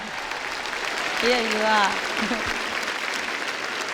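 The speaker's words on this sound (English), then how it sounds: "How about one big round of applause for the star of the evening, really?" Steady applause from a concert audience at a peace-through-music event fills the whole stretch, a continuous wash of clapping with a short spoken line on top partway through.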